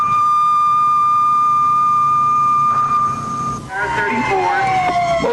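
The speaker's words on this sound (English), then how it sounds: "what a firefighter has to do when the alarm sounds in the middle of the night" Firehouse alarm sounding at night: a loud, steady electronic tone rings on, then cuts over to a wailing fire engine siren that sweeps up and down.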